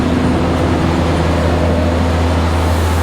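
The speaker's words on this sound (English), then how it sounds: "The trolley. That's really a noisy engine." A historic trolley on the streets of Galveston, Texas runs with a loud, constant engine drone and low rumble, steady and close throughout with no breaks.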